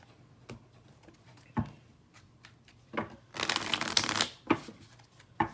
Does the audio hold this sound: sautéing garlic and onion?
no